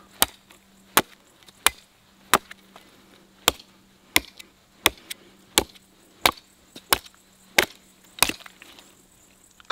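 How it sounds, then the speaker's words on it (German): A Walther MSM survival machete chops into beech wood, about a dozen sharp, evenly spaced woody chops at a steady pace, close by with no talking. "Jetzt wollen wir mal hacken."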